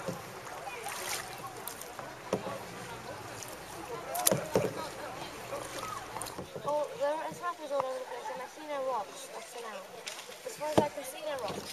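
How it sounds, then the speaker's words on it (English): Paddles dip and pull through water as a canoe or kayak moves along, with splashes and trickles that come and go while people talk over them nearby. "let's paddle then,"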